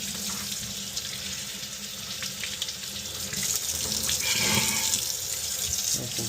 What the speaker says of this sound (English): Here at the sink, clearing out this drain trap.